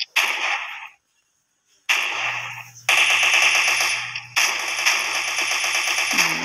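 A gatling gun fires in the video game Special Force 2 in long, loud, rapid bursts, one short burst, a pause, then sustained streams of fire broken by a brief cut, with no talk.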